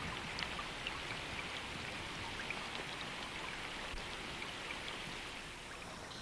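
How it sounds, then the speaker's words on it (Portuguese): A heavy rainstorm pours steadily over flooded Australian plains and lakes, a dense even hiss of falling rain with no break or voices. "E à medida que a tempestade de chuva continua"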